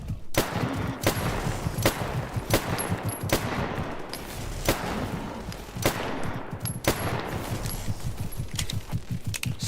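Gunfire in Stalker GAMMA: a run of loud, close shots at an uneven, fairly rapid pace, each with a sharp report over a rumbling background.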